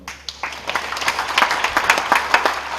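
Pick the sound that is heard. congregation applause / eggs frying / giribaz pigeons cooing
congregation applause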